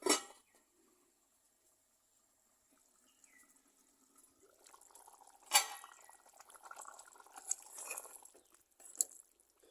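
Brinjal sambar simmers in a covered pot, a faint bubbling that builds to a soft steady burble, with a few light clinks and a knock at the start.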